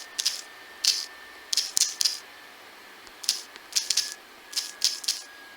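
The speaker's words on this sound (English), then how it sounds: "so let me type this in" A computer keyboard is used to type a username, heard as short clustered bursts of key clicks spaced across the clip, close and moderately loud over a quiet background.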